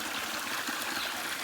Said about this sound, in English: Nice little water source.